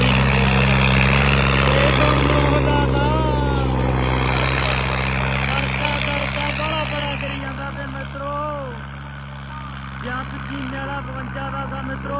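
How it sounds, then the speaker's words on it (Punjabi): A tractor engine runs with a steady, loud, low drone during a village tractor contest in Bhundar, Punjab, continuing under a voice that sings or calls over it throughout. "ਪਹਿਲਾ ਜੱਗਰ ਚੱਲ ਪਿਆ ਟਰੈਕਟਰ ਦਾ ਜਾਂਦਾ ਦੇਖੋ"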